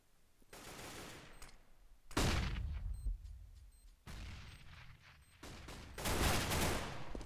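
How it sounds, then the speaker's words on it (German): Counter-Strike gunfire on de_inferno during a competitive match, heard as loud bursts of automatic rifle fire and sharp shots in several clusters, each with a booming, echoing decay, and no voices. "Schön geschossen gegen Cadian"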